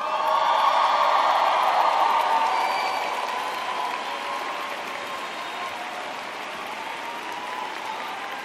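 A graduation ceremony audience applauds the faculty and staff, a broad, steady wash of clapping from a large crowd that starts full and gradually thins and softens.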